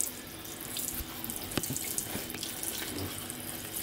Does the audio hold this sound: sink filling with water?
yes